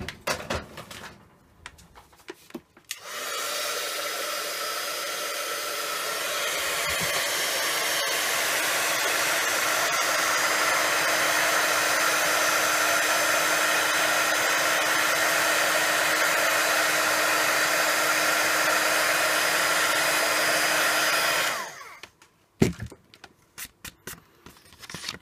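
A heat tool blows steadily over Stampendous embossing powder on a card, giving a close, continuous whir that lasts about twenty seconds before switching off, with no talk over it.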